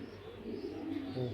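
Racing pigeons coo softly in a loft, a low murmuring coo repeating through a short stretch with faint background noise.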